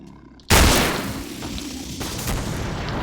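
A single loud gunshot blast fired at an enemy in the shooter game Killing Floor, using a community weapons DLC gun, strikes sharply after a brief quiet and leaves a long rumbling decay.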